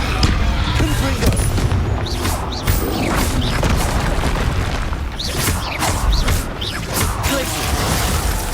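Fire spell blasts and explosions in the Hogwarts Legacy video game come as repeated loud booms and crashes in a dense, continuous battle mix of impacts and whooshes.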